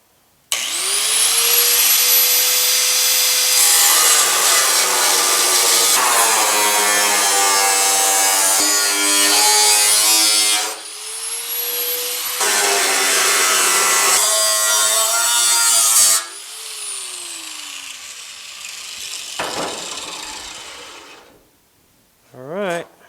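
A power cutting tool slices patch panels from an old aftermarket fiberglass-style car hood on a GTO restomod project, running in loud sustained bursts with pitch drops as the blade slows between cuts, then spinning down near the end.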